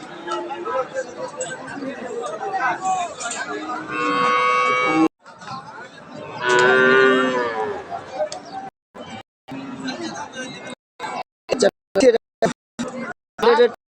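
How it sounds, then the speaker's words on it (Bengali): Cattle and calves at a farm in Saidpur low loudly with long, drawn-out moos, two big calls in succession, amid a babble of nearby voices and people talking. "ফার্মে বারোটা গরু সব"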